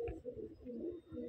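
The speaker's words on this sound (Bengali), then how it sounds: "এই হচ্ছে পায়রা" Pigeons being packed into boxes to be sent as gifts coo in soft, low, repeated throaty pulses, close and steady, with no talk.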